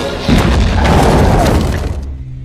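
A dynamite blast from the film The Mummy, used to seal a passage at a Horus statue: a loud, booming burst with a rumbling, crumbling tail that cuts off abruptly.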